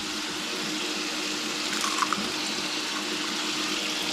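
Water, about a quarter cup, poured into a pan of six cracked eggs to steam them, a steady hissing, splashing flow that stays even for several seconds, moderately close with no talk.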